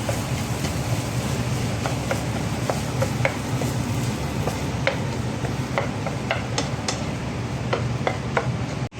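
A spoon stirs and mixes a sandwich filling with sauce, making irregular light clicks and taps against the bowl over a steady background hiss, close and continuous for several seconds.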